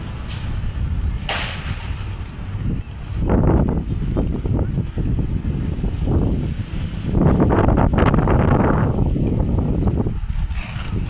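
Strong gusty wind buffets the microphone in heavy rumbling bursts that rise and fall, with sharp swishing peaks and no talking.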